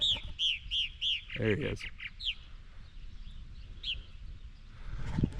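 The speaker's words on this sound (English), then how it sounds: "Purple martins are up there. Hear them?" Purple martins chirp overhead in rapid, repeated bright calls that come in bursts near a backyard hen setup, with a brief rustle and a short spoken remark underneath.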